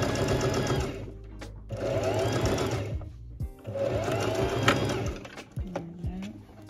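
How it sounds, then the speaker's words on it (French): A sewing machine runs in steady bursts while stitching two seams near the edge of a jacket, a fast close mechanical whirr and needle chatter with brief pauses between runs. "on va venir faire 2 coutures ici et ici, pas sur le haut"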